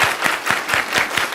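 A group claps together in unison, about six sharp, loud, evenly spaced claps in a steady rhythm.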